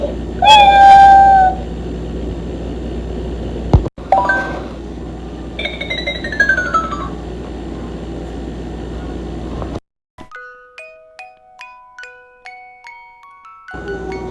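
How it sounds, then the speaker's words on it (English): A cat meows loudly and clearly at the start, followed by a few more meow-like calls against a quiet background, then a run of short chiming electronic tones. "C is for cat."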